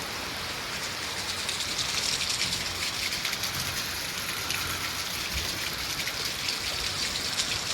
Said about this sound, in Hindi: लेकिन फिर वही ये बारिश हो रही है